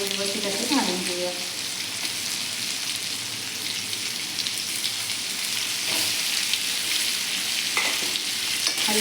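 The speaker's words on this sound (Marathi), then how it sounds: "तेलामध्ये असे मिनिटभर आपण असे हे परतून घेऊयात।" Stuffed ridge gourds fry and get stirred in hot oil, giving a steady, close sizzle with occasional scraping stir sounds throughout and no talking.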